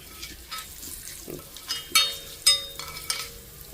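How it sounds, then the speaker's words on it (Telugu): Tempering spices fry in a pan for chutney, giving soft sizzling under a series of sharp metallic clinks and scrapes from stirring, several louder taps spaced irregularly, close and fairly quiet. "సో చూడండి పోపు చక్కగా వేగింది"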